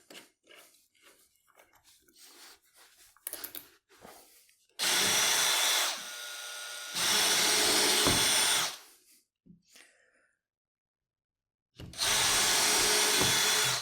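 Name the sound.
power drill driving screws into wood for a workbench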